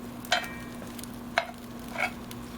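Ground pork stirred in a pot, with about four distinct scraping strokes of a spoon at irregular intervals over a low, steady sizzle.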